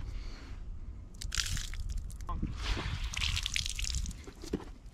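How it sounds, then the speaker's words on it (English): Water sloshing inside a wet boot with each step, heard as a few close, squelchy liquid bursts and splashes with no talking. "There goes the water in the boot."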